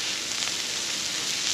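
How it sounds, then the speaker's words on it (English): Seasoned mangrove snapper fillets laid face down in hot frying oil for blackened fish tacos give a steady, dense hiss and crackle, continuous and close. "I'm gonna put those right in oil, face down, and you'll hear them sizzle"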